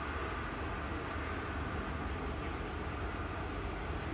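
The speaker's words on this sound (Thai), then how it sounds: "มาไวไปไวนะครับสำหรับขบวน ด่วนพิเศษดีเซลรางที่43นะครับ" A Thai special express diesel railcar, train no. 43, rushes past with a loud, dense continuous roar of engine and wheels on rail, steady throughout with no voices.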